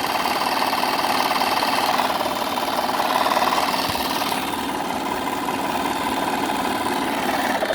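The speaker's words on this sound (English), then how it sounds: "Like the whole compressor will just go at a slower rate." A Craftsman air compressor runs steadily at a slower rate, a loud continuous mechanical drone with a fast rattling pulse and a faint high whine, unbroken throughout.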